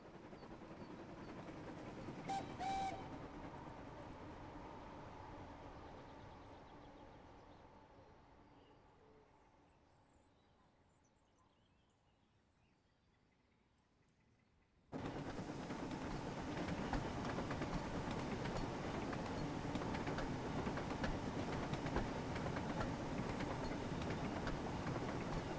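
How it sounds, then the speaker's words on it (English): A train from the Thomas and Friends video game on the route between Vicarstown and Knapford rumbles steadily and fades. It returns louder at once as a continuous roar, as if emerging from a tunnel, with no talking. "Can you hear the train?"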